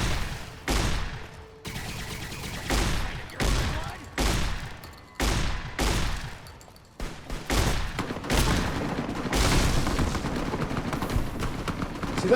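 Heavy booming shotgun blasts in the video game Fallout New Vegas, loud single shots spaced about a second apart, each followed by a short decaying tail, with denser firing toward the end.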